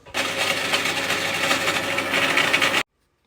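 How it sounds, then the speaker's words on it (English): A bandsaw fitted with a new thin Tough Saws blade runs at close range, a steady buzzing mechanical hum with a faint rattle for nearly three seconds, then cuts off abruptly to silence. "A new blade from Tough Saws in the bandsaw."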